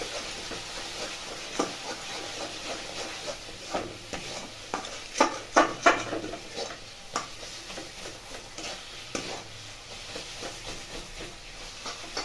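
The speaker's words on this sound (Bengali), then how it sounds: "এবার এটাকে ভালো করে নাড়াচাড়া করে নেব" Carrot halwa with dry fruits and cardamom is stirred in a pot, soft scraping strokes and faint thuds over a low background hiss, moderately quiet.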